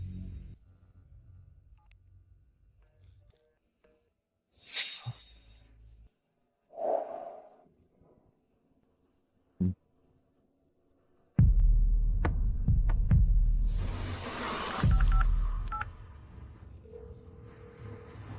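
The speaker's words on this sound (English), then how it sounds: "The number you have dialed is currently busy." Telephone dialing tones come in short separated bursts with gaps of silence between them, followed by a louder stretch of noisy rumbling and clatter.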